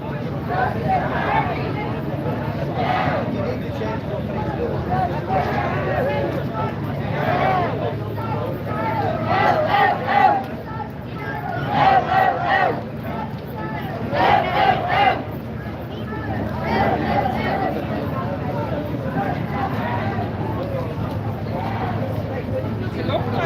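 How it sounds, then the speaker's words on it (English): A large crowd at a street protest demanding justice chants and shouts in rising, rhythmic bursts, loud and near, with a steady babble of voices underneath throughout. "Big crowd."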